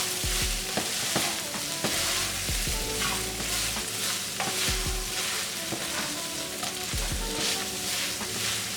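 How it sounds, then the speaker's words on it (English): Food stirred in a pan over low-medium heat, a steady fry and sizzle running throughout with repeated scraping strokes of the spoon every second or two, close and clear, no talking. "you're just gonna give that a little stir and keep it on about between low and medium heat"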